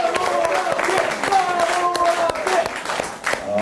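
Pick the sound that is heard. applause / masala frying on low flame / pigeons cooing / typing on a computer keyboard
applause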